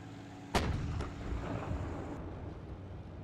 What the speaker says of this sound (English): You got shot at.